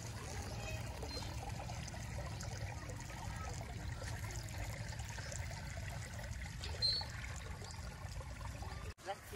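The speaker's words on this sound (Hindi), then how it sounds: "अब टूटी खोलते हैं इसके।" Water runs steadily from the tap of a full plastic drum of mixed fertilizer solution on a farm, a continuous trickling pour that stays even throughout with light outdoor background.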